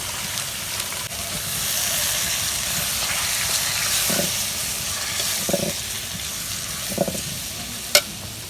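Pepper leaves, chilies and spices sizzle loudly in hot oil in a wok while being stirred for a snakehead fish dish, a steady frying hiss broken by a few scraping stir strokes and one sharp clink near the end.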